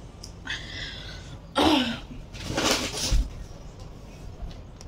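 A person with a heavy cough lets out a few rough, breathy coughing bursts spread over several seconds, close by in a quiet indoor room with air conditioning running.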